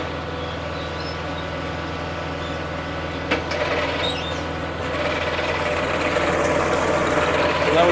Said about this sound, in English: So I'm going to drag the log and slowly lift it